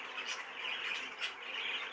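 A show bird squawks on its perch with rough, harsh calls in a few close bursts over a steady background hiss.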